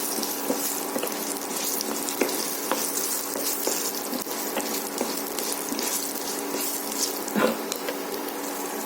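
Dried red chilies sizzle steadily in hot oil in a pan while being stirred for gongura tomato chutney, a constant close hiss with light scraping and a few sharper pops, with no talking.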